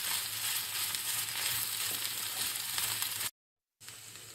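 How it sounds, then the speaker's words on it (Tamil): Onion, carrot, green chilli, coriander leaves and chicken sautéing together in a pan make a steady close sizzle, cutting off abruptly into a brief silence before the frying resumes. "சிக்கனோட சேர்த்து வதக்கின வெங்காயம் கேரட்டு பச்சை மிளகாய் மல்லி இலை எல்லாத்தையும் இதில் சேர்த்து நம்ம வதக்கிக்குவோம்."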